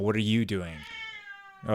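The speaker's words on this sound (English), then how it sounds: "that's a cat" A cat gives a loud, drawn-out meow close by, with a person talking over and right after it.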